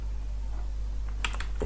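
Quick burst of computer keyboard keystrokes while HTML header code is typed, a few clustered clicks near the end over a steady low electrical hum.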